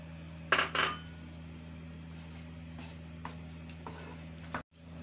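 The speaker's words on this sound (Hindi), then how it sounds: "अब हम इसको भूनते रहे हैं थोड़ी देर।" Coarsely ground jaggery roasts in a pan for sohan halwa; a utensil clanks twice against the pan, then lighter taps and scrapes follow over a low steady hum, quiet and without talk.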